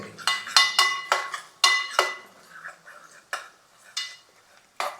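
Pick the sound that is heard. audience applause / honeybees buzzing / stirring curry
stirring curry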